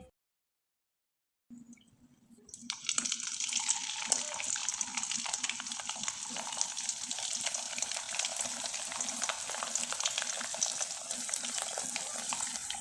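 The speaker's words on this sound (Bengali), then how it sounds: "এবার আপনাদের কয়েকটা পিঠা আমি তেলে ভেজে দেখিয়ে দিচ্ছি" After a moment of silence, pieces of phool pitha slide into hot oil over a low flame and a bubbling sizzle builds quickly, holding steady and fairly loud to the end.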